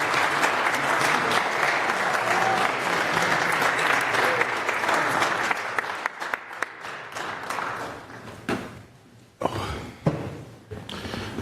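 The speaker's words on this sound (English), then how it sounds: "Let's give Jim Cowdell a round of applause," Audience at a Lynn City Council meeting gives a round of applause, a dense steady roar of clapping that thins after several seconds into scattered claps, a brief renewed burst, and fading hands.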